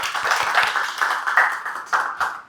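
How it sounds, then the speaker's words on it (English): A small indoor audience claps for a project team at a workplace meeting, a brisk, moderately loud patter of several hands that stays steady before thinning out. "Clap for them, please."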